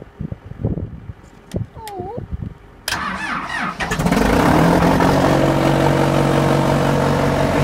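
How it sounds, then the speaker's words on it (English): A CTR engine cranks over with the key and Murphy switch held in, then catches and settles into a loud, rough, meaty idle close by, with someone talking before it starts. "to fire this bad boy up, you gotta push in this little button for the Murphy switch and turn the key"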